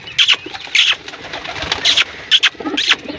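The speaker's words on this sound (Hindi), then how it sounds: "ये कबूतरों के चलो अपडेट होगी, बच्चे निकल आए हैं माशाल्लाह से" Pigeons kept as pets, with newly hatched chicks, give several short bursts of cooing and calling, fairly close, with brief pauses between calls and no talking.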